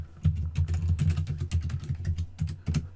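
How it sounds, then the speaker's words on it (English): A root password is typed on a computer keyboard during an ESXi server setup, producing a busy run of close, fairly loud key clacks with a few short pauses, heard alone without speech. "And then we'll just type in our root password,"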